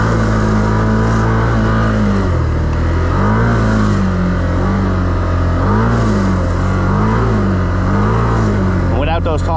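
Can-Am XMR ATV engine revving and accelerating up close, a loud continuous drone with rising and falling pitch swells as the throttle is worked, with talking over it.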